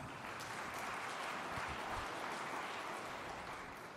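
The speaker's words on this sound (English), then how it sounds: "you can give yourselves a round of applause" Audience applause at an engineering awards ceremony, steady dense clapping from a large crowd sustained throughout without a break.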